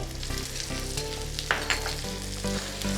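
Chilli pork with celery and spring onion sizzles in a pan as it is stirred, a steady frying hiss with occasional scrapes, heard under background music.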